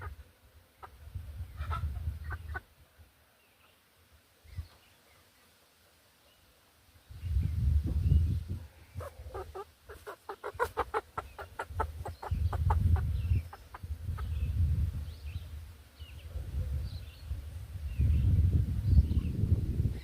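Large fowl Chinese Silkie chickens, smooth feathered with feathered legs, five toes, walnut combs and crests, cluck in bursts alongside their chicks' softer peeping, with quiet gaps between louder flurries of nearby clucking.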